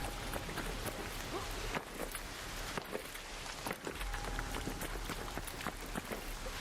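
Steady rain falls in the video game ARC Raiders, a dense continuous hiss with scattered crisp drops and occasional soft thumps, fairly quiet and with no talk over it.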